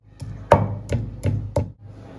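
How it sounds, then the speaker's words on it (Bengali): Ginger and radhuni spice being ground together on a stone, five evenly spaced heavy knocks of the grinding stone, close and distinct, with a low rubbing rumble between strokes. "এবার এতে আমরা আদা আর রাঁধুনিটাকে একসাথে বেটে নেব।"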